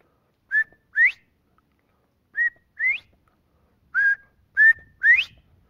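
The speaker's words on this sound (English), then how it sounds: "you could hear several different birds whistling at a particular place." Several quail giving whistle calls in the field, short rising whistles heard in pairs and small clusters with gaps of silence between them, clear and fairly close, with no talking.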